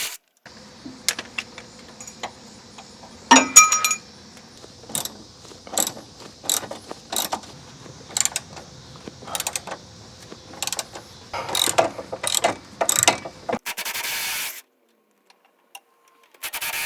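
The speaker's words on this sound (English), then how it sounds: "And with a 12mm socket, we can loosen up those bolts." A ratchet with a 12mm socket loosening bolts on the rear stabilizer bar of a 2003 Toyota Camry 2.4L: repeated bursts of sharp clicking, each a short run of ratchet strokes with pauses between, close and clear with no talking.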